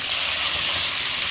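Capsicum, carrot and cabbage sizzle steadily in a hot pan, a continuous close, bright frying hiss with no talk over it.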